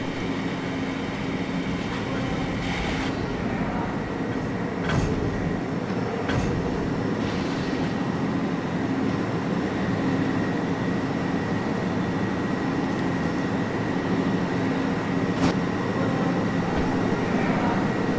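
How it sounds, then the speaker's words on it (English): A New York R62A subway train on the Woodlawn-bound 6 line runs in the Trainz 12 simulator, a continuous loud rolling rumble with a steady tonal whine and occasional clanks, with no talking. "This is a Woodlawn bound 6 train."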